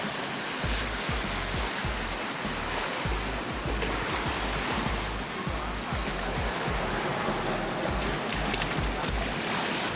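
Ocean waves roll onto a sandy beach on a hot day, a steady, broad roar of surf with rhythmic low swells washing in, continuous and fairly close.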